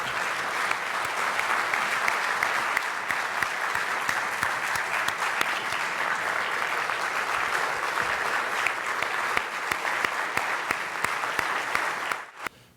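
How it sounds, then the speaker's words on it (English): Sustained audience applause at a public event honoring a police department team, a dense, steady wash of many hands clapping for about twelve seconds before cutting off abruptly. "we all should give a round of applause and thank them"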